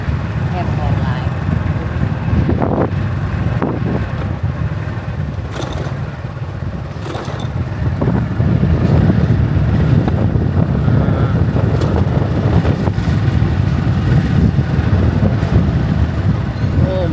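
Wind blowing off the Mekong River on a Thai–Lao riverside at Nakhon Phanom, a steady loud low rumble buffeting the microphone for the whole stretch, with a few brief scrapes and no clear speech.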